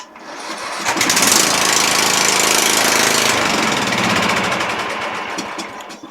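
An MTD Yard Machines riding lawn tractor engine cranks slowly on a weak starter, a sluggish labored churning of about five seconds with chugging pulses, close and loud, then winding down.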